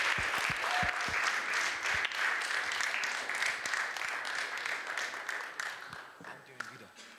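Audience applause at a startup demo day, loud dense clapping with cheering close by, holding steady and then slowly thinning out toward the end.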